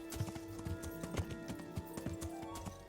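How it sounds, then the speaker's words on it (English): Horse hooves gallop in the medieval video game Kingdom Come: Deliverance, a quick, steady run of rhythmic thuds over a droning music bed, quiet overall. "Oh, look how much faster we are with a horse."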